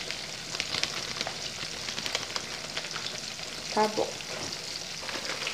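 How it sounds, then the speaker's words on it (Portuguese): Food fries in a pan while dinner cooks, seasoned with black pepper and being stirred. A steady, close sizzle with crackling pops runs throughout, and a voice speaks briefly near the middle. "eu mexo e deixo cozinhar"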